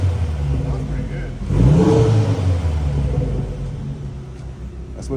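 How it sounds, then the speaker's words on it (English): Gen 1 Mazdaspeed 3 with a Corksport downpipe and HKS exhaust idling with a low rumble, then a single rev that rises and falls within a couple of seconds, close and loud, with people talking around it. "So I'm about to rev it."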